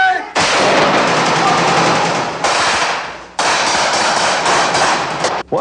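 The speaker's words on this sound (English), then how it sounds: "watch out, we're firing to that floor" Gunfire during mid-1990s army reserve urban combat training in a building, with sustained loud bursts of rapid automatic fire in long stretches separated by brief gaps, close and harsh.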